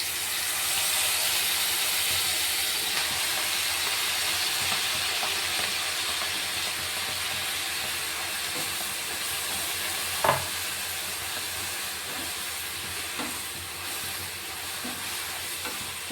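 Fenugreek greens tossed into a pan with fried tomato give a steady, loud sizzle and hiss that lasts throughout, with an occasional stir or clink close by.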